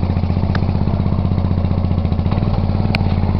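An old Timber Wolf engine, left unstarted all winter under ice, runs at a loud, steady idle with a fast rhythmic chugging beat and a brief faint clink, close up and with no voices.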